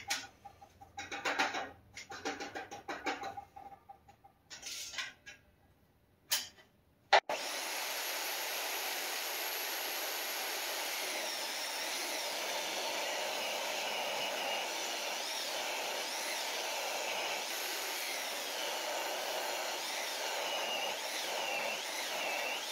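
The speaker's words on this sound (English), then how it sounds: "First thing I'm going to do is rip these boards down for the sides." A saw rips wooden boards lengthwise for the sides of a tiny house loft ladder, giving a steady continuous whine after some earlier clattering and handling noises.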